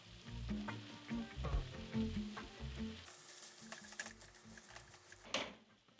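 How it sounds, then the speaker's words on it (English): Eggplant and chickpea masala gravy with tomato paste sizzling and bubbling in a pan, steady close frying crackle with stirring scrapes, quieter spattering toward the end. "cover and cook this masala or the gravy for about 5 minutes."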